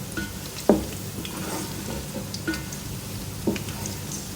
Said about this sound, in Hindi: साबुत गरम मसाला डाल के मैंने इसको फ्राई कर लिया